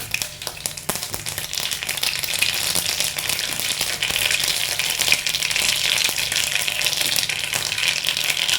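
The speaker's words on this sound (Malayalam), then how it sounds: "ഞാൻ തേങ്ങ വറുത്ത അതേ എണ്ണയിലേക്ക് 1 ടീസ്പൂൺ കടുക് ഇട്ട് കൊടുക്കാം" Mustard seeds fry in hot oil left from frying coconut, building into a dense, continuous crackling sizzle that stays loud and close throughout, with no talking.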